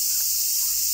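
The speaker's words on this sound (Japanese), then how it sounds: "ちょっと夏でセミがうるさいんですけど" Cicadas in summer drone loudly outdoors, a dense, continuous, high-pitched buzz that fills the whole second without a break.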